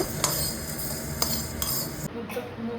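Coriander seeds dry-roast in a pan for a mango pickle, stirred with a metal spoon that taps and clinks against the pan a few times over a soft, steady rustle, with no speech.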